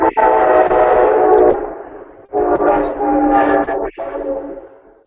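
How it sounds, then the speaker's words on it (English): Loud, close train rumbling past a house, a dense roaring clatter with a brief gap midway before it resumes and slowly fades toward the end. "Got a train coming through."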